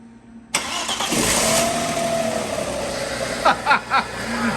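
An Audi car engine cranks and starts, then settles into a steady idle, close and fairly loud, with a few short raps or revs near the end.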